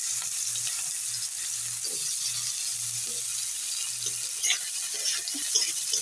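Chopped onion frying in oil for a spicy tangra fish curry, a steady bright sizzle under a low, pulsing hum, with a few soft clinks and stirring sounds toward the end.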